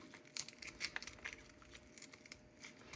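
Quiet, close snipping and crinkling sounds, a few sharp scissor cuts through cooked bacon in quick irregular succession.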